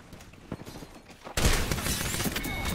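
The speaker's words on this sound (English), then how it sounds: "Oh, what gun is that?" Sudden loud burst of rapid gunfire in Apex Legends, a dense crackling volley that starts abruptly after a quieter stretch and keeps going, with faint talk before it.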